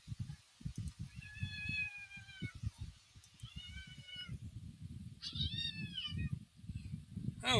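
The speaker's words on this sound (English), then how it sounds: "we got a cat fight going on down here" Cats fight, with drawn-out rising and falling meows and yowls repeated close by over low rumbling background noise, ending in a louder wail.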